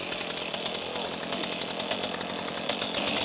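A chainsaw cuts firewood outdoors, a loud continuous high-revving buzz with a rapid pulsing chatter, close and without pause.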